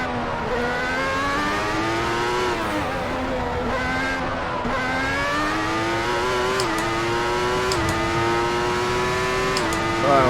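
A high-pitched 1994 Formula 1 car engine drones steadily in a racing game at Hockenheim, its pitch rising and dropping with gear shifts, with synthetic tone and faint voices underneath.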